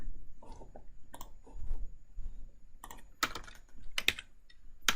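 Code being typed on a computer keyboard, quick uneven bursts of close key clicks separated by short pauses, with no talking.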